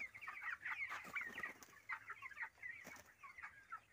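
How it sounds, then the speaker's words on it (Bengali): Chickens cluck and chatter continuously at close range, a busy flock with overlapping short calls and occasional louder squawks. "এই যে আমার মুরগি।"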